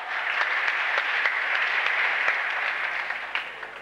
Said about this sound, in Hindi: अबे पूरा मोहल्ला ताली बजाता है